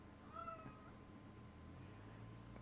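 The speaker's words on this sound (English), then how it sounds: "Pardon my cat." A cat lets out a single faint, drawn-out meow near the start, followed by quiet room hum.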